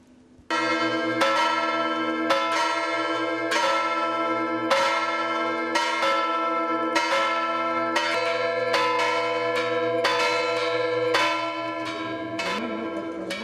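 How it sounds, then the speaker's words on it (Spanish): Church bells in Revenga peal at midday, ringing in a rapid, uneven run of strikes with rich, lingering tones, loud and close, with no voices. "repique de campanas, parón de la actividad a las 12 del mediodía durante 5 minutos"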